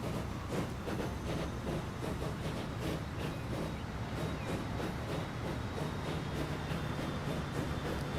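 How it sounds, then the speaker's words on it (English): Fast train in a video game set among bases, airports and shipbuilders, a steady broadband rumble and rattle running continuously at even loudness throughout, with no distinct clacks or horn. "That rocket speed train, it's going to go so fast."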